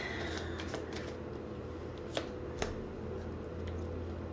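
Tarot cards being shuffled, soft continuous riffling and sliding of the deck with a couple of sharper card snaps, close and quiet, no voices.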